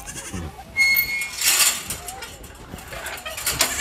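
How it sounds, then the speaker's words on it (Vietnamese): Goats bleating inside a goat pen, several short bleats scattered over a busy background of movement and rustling, fairly close. "Ok, vô chuồng dê luôn nha các bạn."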